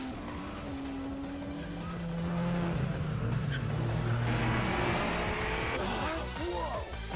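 Race cars in the Initial D Fourth Stage video game head into the final corner, engines whining as they draw closer and grow louder, with tire squeal and skidding as they corner.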